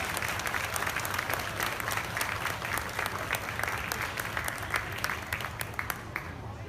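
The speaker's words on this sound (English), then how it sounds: "let's start with giving every single one of these individuals out here a huge round of applause" A crowd at a youth dairy cattle show applauds the exhibitors in the ring, with steady, continuous clapping that stays moderately distant and somewhat quiet throughout.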